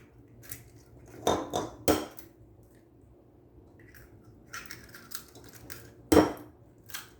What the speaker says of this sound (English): Let me crack them here.